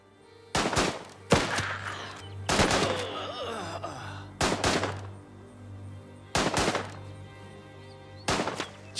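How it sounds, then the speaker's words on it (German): Gunfire in the video game Last Train Home: sharp, loud bursts of rifle and machine-gun shots spaced a second or two apart, each with a short decaying tail, over a low steady hum. "Schießen auf ihn."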